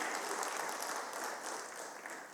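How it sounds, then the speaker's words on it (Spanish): A church congregation claps during a sermon service, producing a faint, distant, even wash of applause that lasts only a couple of seconds. "Démosle un fuerte aplauso al Señor"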